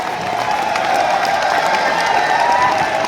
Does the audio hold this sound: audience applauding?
yes